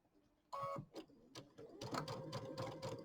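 Domestic sewing machine stitching fabric just beside a fold on a quilted pumpkin-and-flower bench square, a close rapid mechanical stitching rhythm in steady bursts after a brief start, with no talk.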